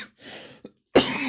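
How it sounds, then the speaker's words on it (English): A person coughs in short, dry fits, with a faint throat clear and then one sharp, loud cough at the end, and no talking. "I have this cough, but it's like persistent."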